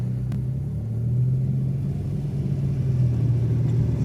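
A 10-year-old car rolling through Seattle traffic on a Friday night, heard from inside the cabin as a steady low engine and road rumble that swells slightly, with no one speaking.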